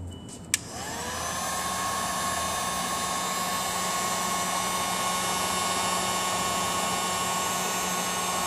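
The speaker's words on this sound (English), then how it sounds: "heat gun." A heat gun blows with a steady, loud whooshing roar after a brief click at start-up, used to shrink plastic tubing over trailer light wiring, running alone without talk.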